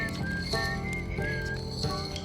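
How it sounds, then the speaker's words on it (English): A character whistles in the space exploration game Outer Wilds, with a few short tonal whistled notes carried over a soft, sustained musical background. "You whistle, that's right."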